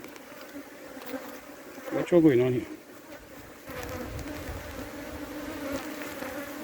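Honey bees buzz steadily around an open hive on a March day while smoke is applied to the frames, a dense insect hum throughout, with a brief spoken question partway through.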